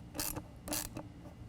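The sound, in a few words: 8mm nut driver tightening a band clamp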